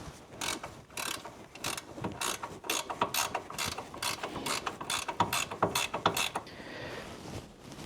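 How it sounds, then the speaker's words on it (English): Ratchet spanner clicking steadily during a car repair, rapid rhythmic ratcheting strokes close by and fairly loud, in repeated bursts with no talking. "give me a ratchet spanner"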